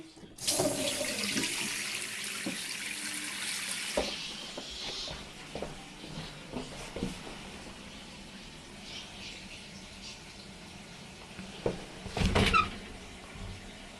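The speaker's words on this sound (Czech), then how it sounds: "v koupelně vám to odtíká" Water drains away in a bathroom with a gushing, sink-like rush that fades after a few seconds. Scattered knocks and clatter follow, and a short splash comes near the end.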